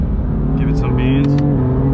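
A BMW fitted with magnetic paddle shifters pulls hard in second gear, its engine droning loudly and steadily from inside the cabin while a person talks over it.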